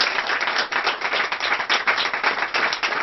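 Loud, steady applause from a church congregation during worship, dense clapping sustained throughout with no voices above it.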